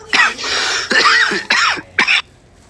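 A person gives a series of about four harsh coughs and throat-clearing bursts, close and fairly loud, separated by short pauses.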